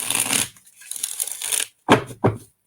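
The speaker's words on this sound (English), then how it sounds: "We'll do one more big shuffle here." A deck of cards gets a big shuffle, a soft rustling riffle followed by two sharp snapping taps as the cards are squared up.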